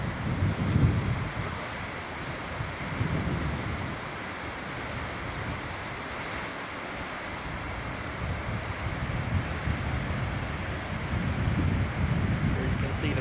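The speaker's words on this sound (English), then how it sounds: "This is a waterfall we did not get a very good view of from the train" A tall waterfall along the White Pass & Yukon Route railway gives a steady broadband roar of rushing water, heard from a distance and mixed with wind buffeting the microphone, without any clear speech.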